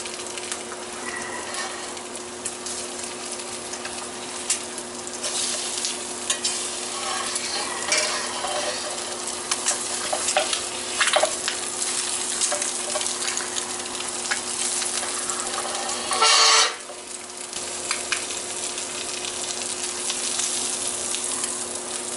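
Eggs sizzle and crackle steadily in a hot pan alongside ham and sweet potato home fries, with occasional clinks of a utensil stirring; the frying runs on without speech and briefly drops out near the middle.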